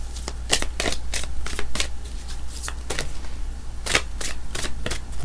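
Tarot cards shuffled in quick bursts of crisp riffling and flicks, repeating irregularly close up over a low steady hum, with no voices.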